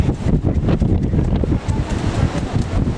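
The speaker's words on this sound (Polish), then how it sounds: "To dzisiaj trochę wiatr wieje, ale czapki nie zwieje." Gusty wind buffets the microphone in uneven bursts on a beach in Spain, a loud low rumble with rustling, and no one speaking.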